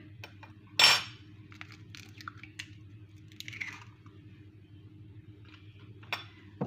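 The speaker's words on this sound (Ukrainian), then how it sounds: "В мисочку я вбиваю одне яйце" An egg is cracked into a bowl with one sharp, loud crack, then softer faint shell and dribbling sounds follow in a quiet kitchen, close up.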